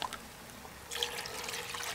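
A second jar of roast stock is poured into a Dutch oven, a quiet, steady trickle of liquid after a faint clink, running continuously and fairly close.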